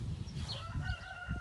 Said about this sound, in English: Oh, there's my rooster.